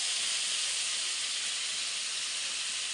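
Potatoes frying in a pan give a steady, dense sizzling hiss that holds even and unbroken throughout, close and moderately loud, with no talking.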